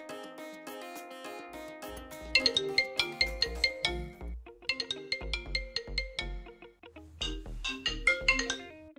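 Phone ringtone playing a bright melodic electronic tune with chiming notes and a bass beat, repeating phrases in close, clear succession for several seconds, with no voices.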